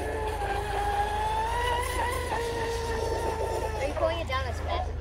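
A Veles 29 RC speed boat runs its motor at full throttle, a high, steady, slightly rising whine that holds for several seconds, with people talking over it.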